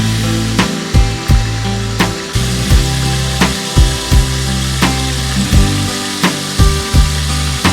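Chicken thigh tenders deep frying at 350 degrees in a fryer, a loud dense bubbling sizzle running continuously, punctuated by regular clunking knocks and thumps up close, with no talk.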